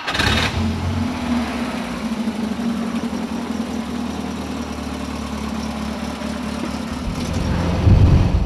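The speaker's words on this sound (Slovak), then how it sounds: "Je to Praga Piccolo z roku 33. A takto znie jeho motor." A 1933 Praga Piccolo, a Czechoslovak vintage car, runs with a steady, fairly loud mid-pitched engine drone that holds evenly throughout and swells slightly near the end.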